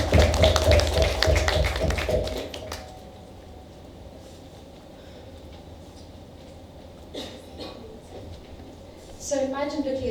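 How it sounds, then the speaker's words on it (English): Audience applause in a hall at a vitiligo awareness talk in Mumbai, a dense burst of many hands clapping for about two and a half seconds, then fading into quiet room sound with faint shuffles. "you all deserve a round of applause for being here"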